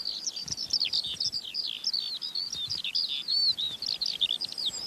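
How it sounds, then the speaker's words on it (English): A skylark sings a continuous, rapid stream of high warbling and trilling notes, clear and unbroken, with no other sounds. "The song of the skylark."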